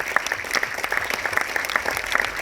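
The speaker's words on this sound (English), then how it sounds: "can you take a minute to really give a round of applause to the people behind the movie?" An audience applauds the team behind a movie at a public conversation event, a dense, steady patter of many hands clapping close by.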